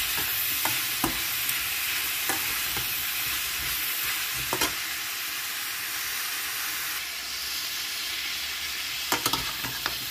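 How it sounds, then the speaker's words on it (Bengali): Mixed vegetables and prawn curry being stirred in a pan with tomato, giving a steady frying sizzle and hiss throughout, with occasional sharp spoon taps and scrapes against the pan. "এবার একটু ভালো করে মিশিয়ে দিতে হবে।"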